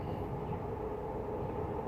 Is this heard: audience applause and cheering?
no